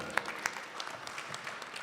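An audience at a Shravan celebration claps for the devotees, a brief patter of hand claps, a couple of sharper claps standing out near the start.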